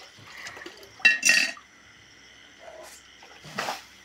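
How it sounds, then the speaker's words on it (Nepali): Dishes are washed with water in a few short bursts of splashing and pouring, separated by quiet gaps, with soft clinks in a calm setting. "बादल बाबाले खस्काइ भाँडा माझेको रे"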